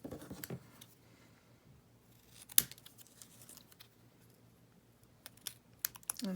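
Scissors trim the corners of a paper card in a few crisp, quick snips and paper rustles, close and fairly quiet, separated by near-silent pauses.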